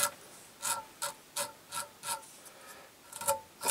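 Velcro brushed over the hackle fibres of an Irishman's Claret trout fly gives a series of about ten short, rhythmic raspy strokes, close and fairly quiet, with no talking.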